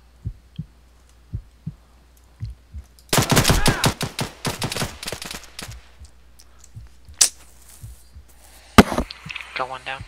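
Gunshots in ARMA 3, scattered single reports spaced through the clip with a dense rapid burst of fire in the middle and a sharp loud crack near the end.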